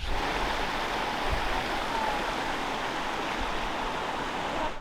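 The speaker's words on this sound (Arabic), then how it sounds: "شايفين الشلال ده شايفينه اهو؟ ده شلال في قلب الدنيا فوق." Waterfall pouring down a mountainside in Interlaken, Switzerland, giving a steady, dense roar of rushing water that holds even throughout, with no voices over it.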